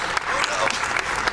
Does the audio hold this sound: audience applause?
yes